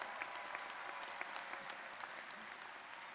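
A large crowd at an engineering college graduation ceremony applauds, steady dense clapping heard faintly from a distance, with a few sharper individual claps standing out.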